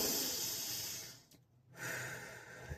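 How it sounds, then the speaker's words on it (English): A long, close deep breath fills the first second, then a short quiet pause, then a slow airy exhale swells in, all with a hissy breathy texture and no speech. "take a deep breath"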